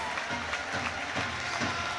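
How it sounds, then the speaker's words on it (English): A crowd at an ice hockey rink applauds the Widnes Wild team, a loud, continuous wash of clapping with crowd noise and a commentator's voice partly over it. "The Widnes Wild just take the applause of the crowd"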